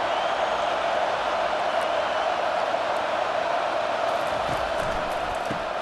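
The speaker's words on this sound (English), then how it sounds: "This crowd, full throat, splitting the eardrums" Stadium crowd roaring in the EA Sports College Football 25 video game, a dense, steady wall of cheering that holds at one level from start to finish with no break.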